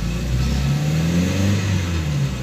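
Volkswagen Jetta engine with a throttle body fault revving at mid pitch, a steady loud drone with harmonic hum rising and dipping slightly over a couple of seconds, heard up close with no talk.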